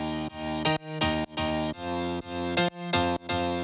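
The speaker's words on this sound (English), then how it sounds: "And then added the classic house piano." A classic house piano riff plays in an electronic track, with punchy repeated chords that swell and then chop off in a steady groove, loud and prominent with no voices.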